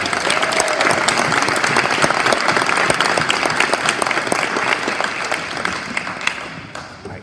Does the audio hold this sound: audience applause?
yes